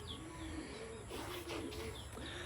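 Pigeons coo softly in a loft, a low repeated rolling call under a constant background hiss, faint and somewhat distant.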